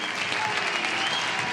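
A studio audience applauds Johnny Carson with dense, steady clapping that fills the room at full strength without a break.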